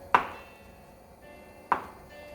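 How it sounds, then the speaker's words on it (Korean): Two crisp knife chops on tofu being cut into small cubes on a board for kimchi stew, about a second and a half apart, close and clear with quiet in between. "잘게 그냥 네모나게 자를게요"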